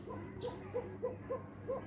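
Pigeons coo around a loft in a quiet series of five or six short, evenly spaced soft calls over faint background hum.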